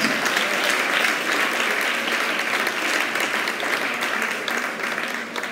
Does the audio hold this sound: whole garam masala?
no